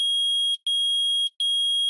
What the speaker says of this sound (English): It's beeping. The metal detector found something.